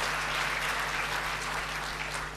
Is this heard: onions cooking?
no